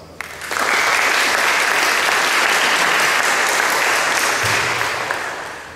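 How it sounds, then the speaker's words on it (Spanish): An audience breaks into strong applause to welcome a speaker at a conference on Andean ethnographic images, clapping swelling quickly to a full, steady roar and easing off slightly near the end. "Lo recibimos con fuertes palmas"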